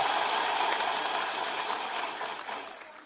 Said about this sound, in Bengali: আমাদের উচ্ছ্বাসের জন্য একটা জোরে হাততালি দিই।